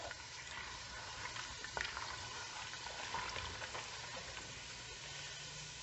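Garlic and sesame seeds bubble and fry in oil in a pot for salsa macha, a soft continuous sizzle with small crackling pops and occasional stirring clinks, heard alone.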